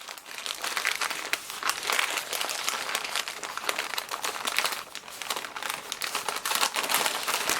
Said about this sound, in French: je replie le papier sur lui-même et je viens donc rouler la génoise.